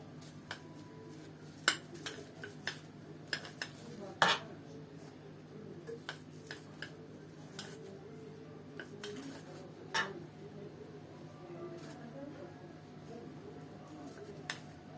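A spoon pressing semolina halva into a bowl, producing quiet scattered clinks and taps of metal against dishware at irregular intervals, faint and close.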